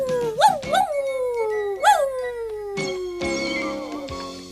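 A voice imitates cat meows and dog barks in a cartoon, giving several drawn-out, wavering meow-like cries followed by yelping, bark-like calls, loud and close.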